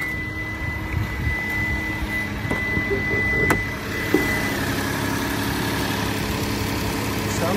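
A Kia car engine idles steadily at close range, a low continuous hum with a faint high whine over it.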